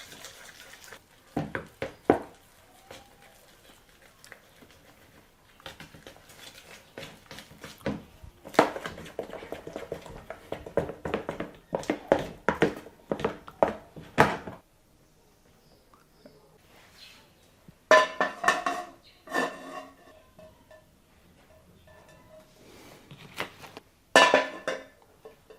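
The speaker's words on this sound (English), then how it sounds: "now it's time to mix everything together" Spoon or whisk clattering against a bowl while pancake batter is mixed in a home kitchen, bursts of scraping and clinking with quiet pauses in between.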